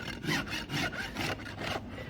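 Rasping and cutting strokes on a horse's hoof during a trim, a steady run of rough scraping passes repeating about every half second, close and fairly loud with no talk.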